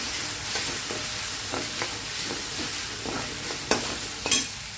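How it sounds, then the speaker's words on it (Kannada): Coriander powder and spices stirred in a hot pan for palak paneer: a low frying sizzle under repeated soft scraping strokes of a spoon, with a sharper clack near the end. "ಧನಿಯಾ ಪೌಡರ್ ಹಾಕಿ ಅದು ಸ್ಟರ್ ಮಾಡೋಣ"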